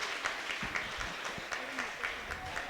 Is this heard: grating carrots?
no